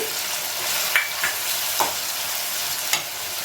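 Baby corn gravy with ginger-garlic paste and garam masala sautés in a pan with a steady, close sizzle, broken by a few sharp clinks of a spoon stirring against the pan.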